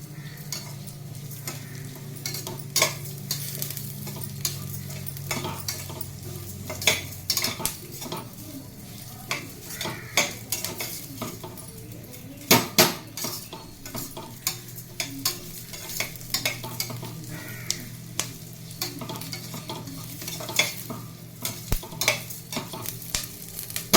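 Moong dal dry-roasting in a pan, stirred with a utensil that gives repeated scraping and clicking strokes over a soft, steady toasting hiss, close and continuous with no talking.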